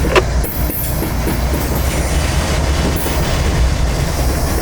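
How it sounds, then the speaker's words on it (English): Train cars being shoved by a locomotive rumble and clatter steadily along rickety tracks up close, a loud continuous rolling noise with a sharp clank near the start. "the engineer then begins shoving down the rickety tracks"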